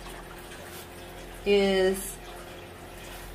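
Natural spring water pours from a 2.5 gallon jug into a 20 gallon reservoir in a brief, close splash of about half a second, set against a steady low background hum.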